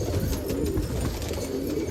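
Allahabadi pigeons at a pigeon festival in Nashik coo in a low, steady murmur of overlapping calls, close and continuous against a busy background.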